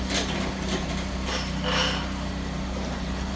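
A Craftsman opener-driven garage door runs closed with a steady mechanical motor hum and faint rattling throughout, moderately loud and near, with no talking.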